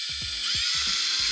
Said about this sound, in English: 3mm pilot drill